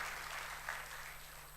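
A church congregation applauds during a pastor's sermon, a steady wash of clapping from many hands held for the whole short stretch, fairly faint and even.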